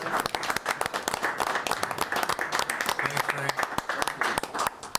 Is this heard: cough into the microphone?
no